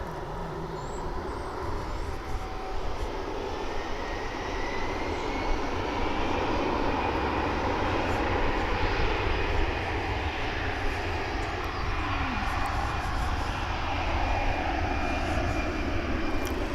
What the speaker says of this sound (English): It's a Frontier aircraft,